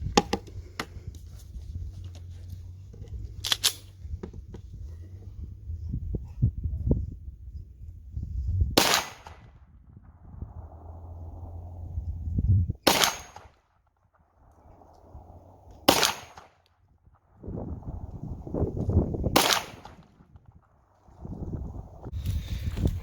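Handgun fired downrange at a steel plate target using 9x19 124-grain Underwood ammunition: about five sharp, loud shots spaced a few seconds apart, each followed by a faint ring from the steel, over low outdoor rumble.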